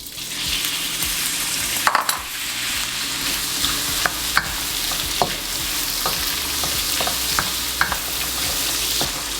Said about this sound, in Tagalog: Prituhin nyo yung hotdog.